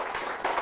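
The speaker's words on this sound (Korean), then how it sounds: "우리 박수로 한번 환영하겠습니다." Audience clapping at a church founding service to welcome a missionary, a steady wash of hand claps filling the short moment, moderately loud and without speech.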